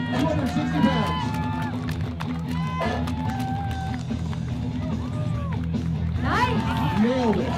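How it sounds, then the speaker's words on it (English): Crowd at a strongman competition cheering and shouting for a lifter, with scattered whoops, claps and voices over steady music throughout. "Let's cheer him on, everyone."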